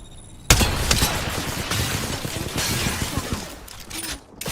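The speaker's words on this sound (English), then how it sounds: "I am taking fire, friends." Sudden burst of video game gunfire with cracking, shattering impacts, starting abruptly and continuing as a rapid, busy volley of shots for several seconds.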